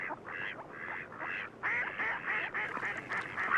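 Mallard ducks on a pond during migration call in repeated nasal quacks, several birds overlapping, growing louder and busier toward the end, with no voices.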